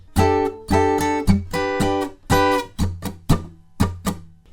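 Muted funky electric guitar strumming in a down-up-down-down-up pattern for a riff, crisp percussive chord chops in a steady rhythm, played alone and up close.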